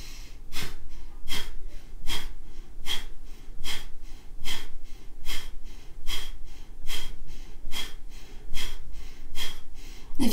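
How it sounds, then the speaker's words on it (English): Rapid, rhythmic kapalabhati breath-of-fire breathing, a steady train of sharp forced exhales through the nose repeating about every half to three-quarters of a second, close and clear with no talking. "Inhale to start breath of fire."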